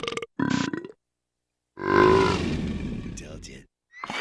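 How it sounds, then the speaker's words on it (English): A cartoon character lets out a loud, drawn-out burp during a burp challenge. The long, rough belch sits between short vocal bursts and moments of silence. "Prove it with relish. A burp challenge,"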